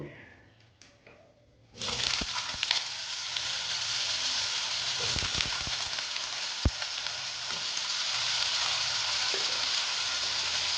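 Potatoes hit tempered oil in a pan and a bright, loud sizzle bursts in after a quiet moment, then holds steady with occasional stirring knocks.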